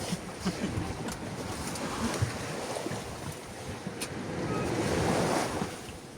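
Sea waves wash steadily onto a beach, a continuous rushing surf mixed with gusty wind buffeting the microphone, with no voices.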